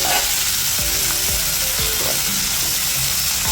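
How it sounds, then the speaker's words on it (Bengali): Half a kilo of fish frying in oil in a kadai, a loud continuous close sizzle with faint scraping clicks underneath throughout. "মোটামুটি আমার দুপাশে ফ্রাই হয়ে গিয়েছে"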